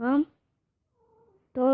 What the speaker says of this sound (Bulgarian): Да, това е котката ми.